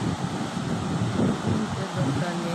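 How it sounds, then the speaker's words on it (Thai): Evening sea wind buffets the microphone beside the shore, a constant rough rumble with the wash of waves mixed underneath, steady and fairly loud with no talking. "คลื่นลมตอนเย็น"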